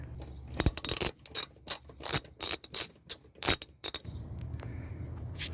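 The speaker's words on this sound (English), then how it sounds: "I'll need to take these two screws to make better access" Ratchet on a 2011 Toyota Camry loosening screws near the serpentine belts with the wheel off, a close burst of quick rapid clicking in short bursts, then a low quiet hum of the workshop.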